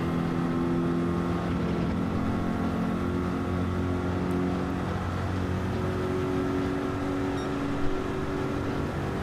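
GT3 race car engine in Gran Turismo during a championship race at St Croix B reverse, a steady droning hum held at constant pitch for the whole stretch, loud and even with no other sounds.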